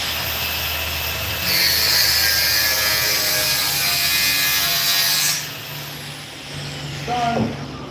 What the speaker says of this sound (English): Angle grinder, cutting wheel still on it, perfect.